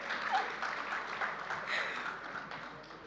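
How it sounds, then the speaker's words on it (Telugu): Audience applause fills a movie pre-release event hall, a steady, dense wash of many hands clapping at moderate distance, holding evenly throughout with no break. "చప్పట్లు."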